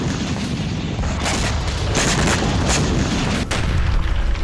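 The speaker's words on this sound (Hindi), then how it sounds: "काफी दूर तक धमाके की आवाज सुनाई दी" Heavy, continuous rumbling blasts with several sharp booming impacts, loud and dense, explosions from a drone attack going off in quick succession.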